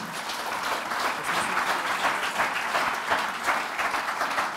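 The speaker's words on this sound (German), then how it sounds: "bitte einen großen Applaus." A hall audience claps in a steady, even stream for several seconds, a dense rain of hands without talk, holding at a constant moderate level.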